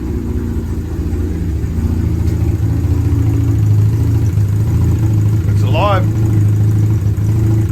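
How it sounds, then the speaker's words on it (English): A Mazda RX-8 rotary engine idles too low with a low, slightly uneven rumble, steady and close, while a short chirping sound briefly cuts in. "it's idling, but it's way too low."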